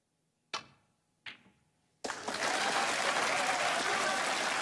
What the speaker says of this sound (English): And listen to the cheer he got for knocking that one in.